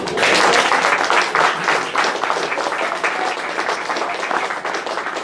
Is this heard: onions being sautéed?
no